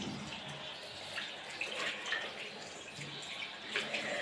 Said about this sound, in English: Rinse forearms, wrists, and hands, keeping the fingers pointed downward.